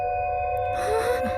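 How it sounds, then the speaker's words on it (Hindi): A doorbell's sustained electronic chime tone rings, then gives way to a noisy, murky tail. "डोरबेल की आवाज आई"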